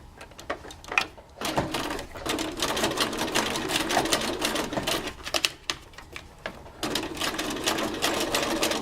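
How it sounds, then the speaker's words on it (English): A sewing machine runs steadily, edge stitching a felled seam about 1 to 2 mm from the folded edge in black thread, with a brief pause near the start and then continuous close, loud stitching to the end. "We're going to edge stitch up, which is about 1 to 2mm from the folded edge, and stitch all the way down."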